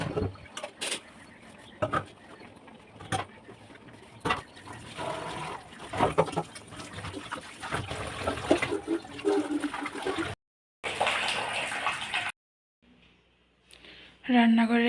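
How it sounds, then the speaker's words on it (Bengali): Dishes being washed at a home kitchen sink, with water running and splashing almost continuously, dishes clattering in irregular knocks, a couple of brief pauses, and a closer, louder burst of water at the end. "এই বাসন ধুতে ধুতে দিনগুলো কেটে যায়"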